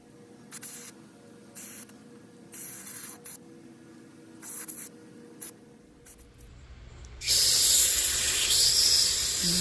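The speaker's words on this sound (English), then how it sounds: "Let's go ahead and spray some carbon cleaner through it." Carbon cleaner sprayed through a check valve on a Kamplite inverted stove, with short hissing bursts, then a louder sustained hiss near the end.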